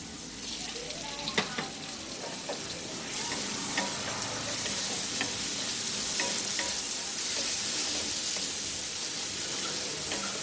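Chopped tomato and vegetables stir-frying in a pan for masala noodles, a loud close sizzle that swells as the tomato goes in, with spatula clinks and scrapes throughout.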